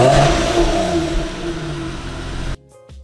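A car engine revving with an HKS aftermarket exhaust, still restricted by mufflers and catalytic converters, rises loud and fairly steady close by, then cuts off abruptly near the end, leaving a quieter idle-like rumble.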